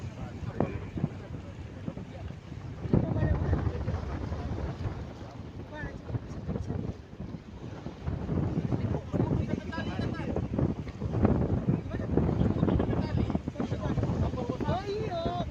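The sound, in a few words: strong wind at sea aboard passenger ship KM Barcelona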